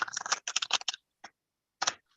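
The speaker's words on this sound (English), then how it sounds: "I couldn't hear over Mary's shuffling" Playing cards are shuffled nearby in quick crisp riffling bursts. A short rapid run is followed by a pause, one isolated flick and then another brief burst.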